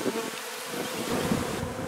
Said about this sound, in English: They're pouring out of the entrance.